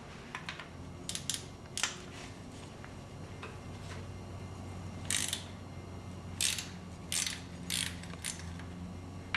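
A ratchet loosening the two 12mm bolts on the alternator belt bracket of a Nissan KA24DE engine: bursts of sharp clicking at a steady pace, close and fairly quiet, alone with no talk.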